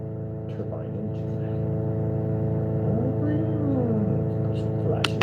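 A small homemade cardboard turbine fan, powered through a Molex adapter, spins up with a steady whirring hum that rises slightly in pitch. Faint clicks and handling noises sit on top, and a brief sharp tap comes at the end.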